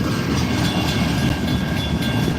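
A Conrail freight train with a yellow auto rack car rolls past, a continuous low rumble and rattle of wagons with faint wheel clatter, steady and fairly close with no speech.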